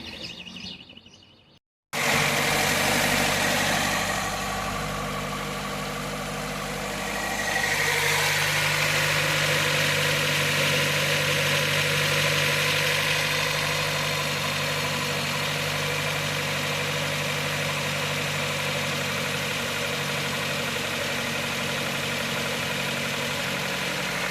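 A Lada Niva engine is started and left idling with the radiator cap off after coolant work. A brief cut, then a steady, loud idle settles in with a low vibrating hum and a slight rise in pitch partway through.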